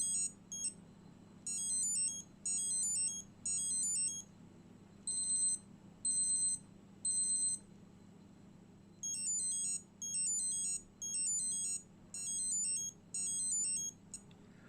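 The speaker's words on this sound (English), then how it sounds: "Alarm sound A, there's loads of alarms" A men's Pulsar alarm chronograph wristwatch beeps in short rhythmic bursts, pausing and switching between different alarm tones.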